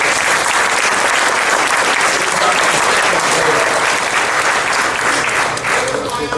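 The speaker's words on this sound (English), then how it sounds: "Give him a round of applause." Loud, sustained applause from a packed political gathering audience, a thick continuous roar of clapping and crowd noise that holds steady throughout, with a faint voice emerging near the end.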